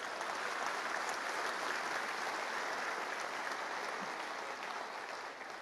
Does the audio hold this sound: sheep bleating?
no